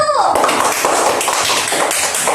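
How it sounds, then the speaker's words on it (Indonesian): Classroom applause for a student group during a micro-teaching practice lesson, a dense burst of many hands clapping together that fills the room steadily, with a voice briefly heard at the start. "Tepuk tangan dulu untuk kelompok 1"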